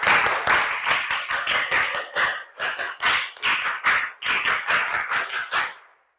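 A class of schoolchildren performs the Indonesian scout clap, tepuk pramuka, in unison: sharp, rhythmic bursts of clapping in a set pattern, with short pauses between phrases, repeated through the routine before stopping abruptly.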